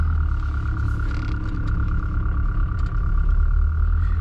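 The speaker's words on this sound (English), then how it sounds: "It's a great sounding little engine." A Mercedes 240 W123 four-cylinder engine idles nearby with a steady, low, even hum and light clatter, running alone without talk.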